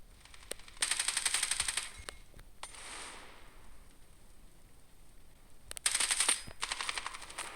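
Two rapid bursts of automatic gunfire from a FAMAS rifle in the video game Standoff 2, loud and close, separated by a few seconds of quieter ambient noise and a couple of single shots.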